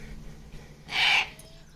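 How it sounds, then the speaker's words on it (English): An eagle owl at a bird of prey sanctuary gives a single short, harsh call, close and fairly loud over quiet background noise. "He's a eagle owl."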